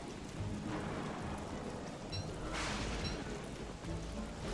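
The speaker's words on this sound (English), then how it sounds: "I keep forgetting about the rain, and that the rain actually affects me." Steady rain hisses in Don't Starve Shipwrecked, a dense, even downpour filling the whole stretch with a few brighter gusts and faint rumbles underneath, heard alone without talk.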